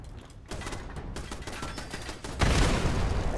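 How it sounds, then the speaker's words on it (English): Rapid repeated shots ring out in a Fallout 76 fight against a tough turret, a steady rattling volley that swells into a louder, denser burst toward the end. "Jeez, this thing is a tough little turret."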